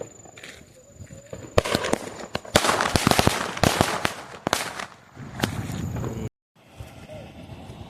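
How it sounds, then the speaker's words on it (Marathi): A string of firecrackers goes off outdoors in a dense burst of rapid cracking pops, loud and close, then stops abruptly and leaves faint background noise. "आपण ताची माळ आणलेली आहे, तर ती लावून बघूयात. माळ लागलेली आहे."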